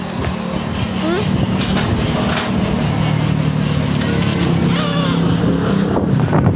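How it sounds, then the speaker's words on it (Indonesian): Strong typhoon wind roars steadily against the microphone, a loud continuous buffeting rush with low rumble throughout, while people talk over it. "Angin kencang deh."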